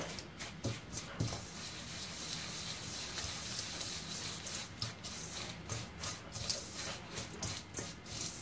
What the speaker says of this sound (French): Je mélange ça, voilà, toujours au bout des doigts.